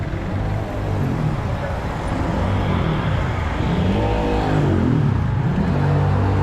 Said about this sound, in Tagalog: Traffic talaga oh.